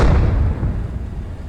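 Artillery explosions in the tank game Gunner Heat PC during a T-72 mission: a dense, loud low rumble of blasts that slowly fades over a second and a half, with no talk.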